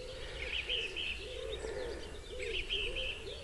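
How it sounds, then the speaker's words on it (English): Birds call on a misty lakeside morning, cooing phrases like a pigeon or dove repeating in slow waves alongside higher chirping, fairly close and clear over quiet background hiss. "it's peaceful as anything, except for the birds, of course"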